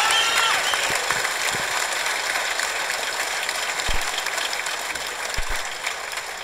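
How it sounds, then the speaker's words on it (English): A crowd applauds the fighters after a bout at a Toronto fight event, with dense, steady clapping from start to finish and a few louder thuds near the microphone. "Let's give another round of applause for these great fighters"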